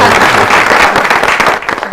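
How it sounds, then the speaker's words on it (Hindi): Audience at a Hindi discussion on drug abuse prevention clapping for a speaker, a loud, close, dense burst of applause that fills the whole stretch with a hint of voices underneath. "मेरे ख्याल से इनके लिए तालियां बजाएं।"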